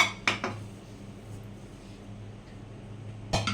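A lid comes off a pot of raw green mango pickle with sugar melting in it. Two quick metallic clinks open the clip, a quiet kitchen hum follows, and a final clatter closes it.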